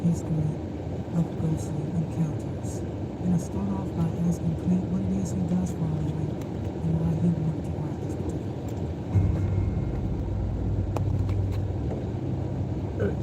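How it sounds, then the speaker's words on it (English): Strong gusts buffet and shake a car in Brigham City, Utah, making a steady, heavy low rumble that fills the cabin throughout, with a brief surge near the end, while people talk over it. "It's so windy, it shakes the car."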